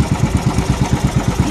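A small engine runs steadily after being started, chugging in a fast, even low-pitched pulse that stays loud and close throughout, with no talk over it.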